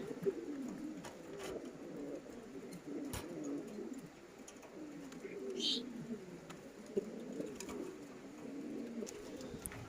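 Foreign pigeons cooing inside a cage, soft low repeated coos overlapping in a continuous murmur, close and fairly quiet, with a few faint chirps and small clicks.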